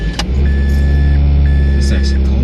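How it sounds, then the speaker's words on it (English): A car engine starts and idles on a cold day, a loud, steady low rumble filling the whole stretch after a brief click at the start, with a few faint thin tones and short noises layered over the running motor. "I have to actually turn on this damn car."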